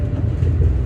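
A tram rolling along its rails in Japan, a loud steady low rumble close by for under a second with no voices.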